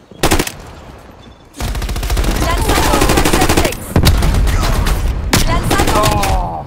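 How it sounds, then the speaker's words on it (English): Tactical rifle fire in Call of Duty Black Ops Cold War crackles in loud rapid bursts, with long sustained volleys broken by short pauses and a single sharp shot at the start. "They're using tactical rifles. I'm gonna use it too."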